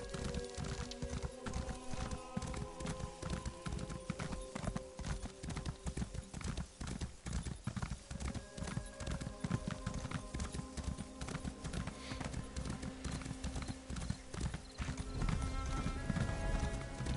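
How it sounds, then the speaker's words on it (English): Steady clip-clop of horse hooves at a gallop in Elder Scrolls Online, loud and continuous, with a brief whinny and busy game music and effects underneath. "Hop on the horse."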